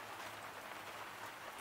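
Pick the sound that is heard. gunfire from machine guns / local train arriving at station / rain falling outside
rain falling outside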